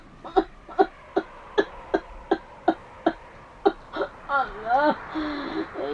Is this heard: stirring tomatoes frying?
no